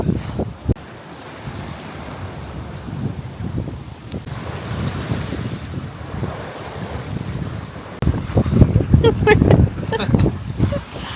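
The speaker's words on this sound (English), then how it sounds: "Waves are building up. The wind is picking up." At night aboard a sailboat off Normandy, building waves wash and slap against the hull while gusting wind buffets the microphone, growing louder and rougher toward the end.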